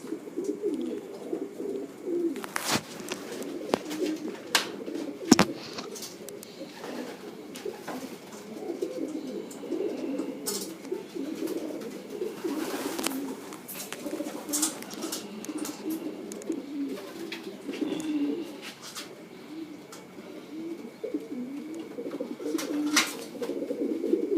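Pigeons in a dim loft coo continuously in soft, overlapping low murmurs, with occasional wing flaps and sharp knocks cutting through; no voices.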